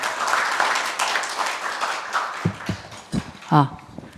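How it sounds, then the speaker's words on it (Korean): Audience applause welcoming a speaker at a Gwangju policy forum, an uneven scatter of claps that fades after a couple of seconds, giving way to a few close knocks and a voice speaking. "여러분 큰 박수로 환영해 주십시오"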